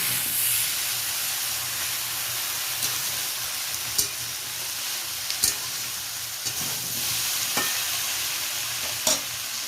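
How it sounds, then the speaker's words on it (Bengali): Vegetables mixed with ginger paste while cooking shukto in a pan, a steady hiss of frying under a few distinct scraping stir strokes at irregular intervals. "আদা বাটাটা ভালো করে সবজির সাথে মিশিয়ে নিচ্ছি"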